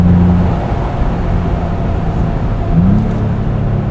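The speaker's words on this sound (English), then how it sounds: "Heel toe rev matching" Rev-matching downshift in a 2025 Ford Bronco Big Bend Sasquatch with the 7-speed manual: a steady engine drone blips upward in pitch near the end, set against constant road and wind noise inside the hard-top cabin.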